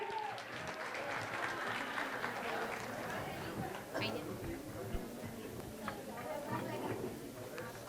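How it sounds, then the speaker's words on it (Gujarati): Sustained applause from an audience at a school music programme, dense clapping with crowd murmur filling the whole stretch at a steady level. "આ ટીમ માટે જોરદાર તાળી થઈ જાય"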